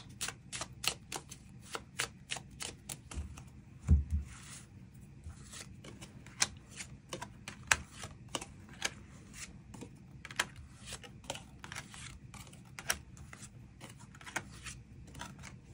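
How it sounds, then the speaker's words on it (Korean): Tarot cards shuffled and drawn by hand: a long, steady stream of quick, close card flicks and riffles with occasional soft slaps of cards being laid down, and no talking. "추가 카드 뽑아보도록 하겠습니다"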